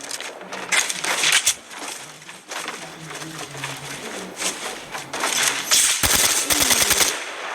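Rapid video-game gunfire crackles in quick bursts through a busy, dense mix, with a louder run of sharp shots near the end.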